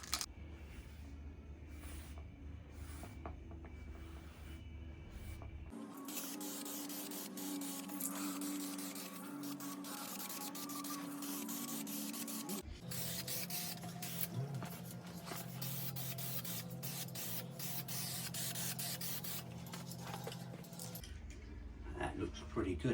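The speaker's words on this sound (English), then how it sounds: "So I'm going to give that a good rattle for a few minutes before I apply it." An aerosol spray can is rattled and sprayed, heard as close bursts of hissing spray broken up by clicking and rattling of the can, with a person speaking at times.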